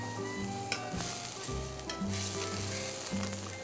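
Cauliflower and wood ear mushroom sizzle loudly in a hot pan, with repeated scraping stirs of a spatula cutting through the steady frying hiss.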